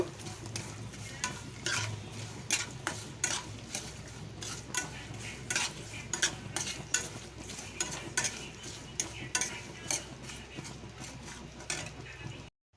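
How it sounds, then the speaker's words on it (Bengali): Poppy seeds fry in a pan while a spoon stirs them, giving repeated sharp scraping strokes at a steady rhythm over a low, soft sizzle, close and moderately quiet. "আমি পোস্ত নিয়ে নিয়েছি পোস্তটাকে ফ্রাই করে নেব"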